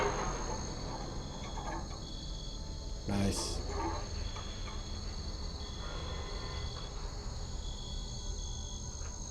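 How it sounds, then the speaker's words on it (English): Crickets chirping in a Talos Principle 2 game environment, a dense continuous trill throughout, with a brief thump and a short spoken word partway through. "More than the crickets in the background."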